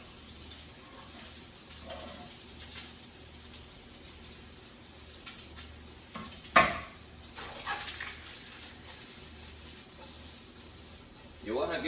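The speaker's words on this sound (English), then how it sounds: "And that's a nice little sizzle to it." Food in oil in a hot pan gives a low, steady sizzle under the room noise, with a sharp clack of pan or utensil midway and faint stirring sounds.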